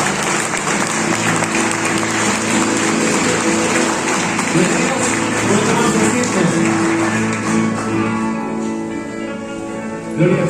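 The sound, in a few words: congregation applause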